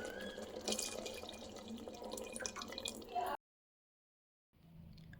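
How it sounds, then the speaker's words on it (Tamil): Tamarind water is poured into a village-style fish curry masala, giving about three seconds of splashing, dripping liquid. The sound cuts to silence, then a faint low simmer returns. "புளித்தண்ணியை ஊற்றணும்"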